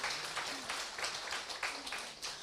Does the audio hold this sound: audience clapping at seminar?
yes